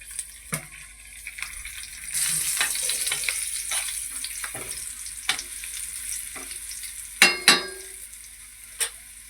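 Cumin seeds and garlic hit hot oil for a vegetable bhaji tempering, giving a broad sizzle with crackling pops and a few sharp spoon-and-pan clatters near the end, close and steady with no talk.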